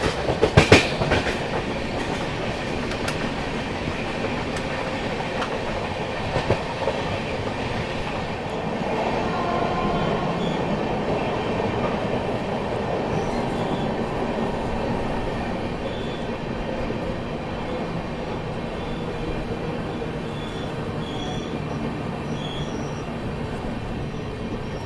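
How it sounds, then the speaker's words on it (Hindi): The Tirukkural Express rolls into Ajni station with a steady, loud rumble of wheels on rails, a sharp clank near the start and continuous clickety-clack with faint squealing as the coaches pass close by. "चलिए, सबसे पहले लाइनअप में आ रही है तिरुकुरल एक्सप्रेस।"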